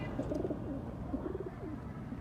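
Pigeons, among them a khaki hen, coo in a home loft: soft, repeated coos close by over a low background hum.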